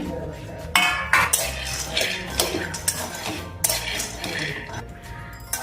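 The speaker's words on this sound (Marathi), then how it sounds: "सर्वप्रथम आपण हे शेंगदाणे कढईमध्ये टाकूया ते खरपूस असे भाजून घ्यायचे" Peanuts rattle and scrape in a metal wok, roasted over medium flame and stirred in uneven bursts of clinking, close up over a steady background hiss.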